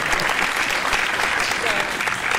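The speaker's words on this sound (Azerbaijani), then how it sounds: "yüksək səviyyədə alqışlayasınız" A hall audience at a film club event claps together in a dense, even patter that carries on steadily from start to finish.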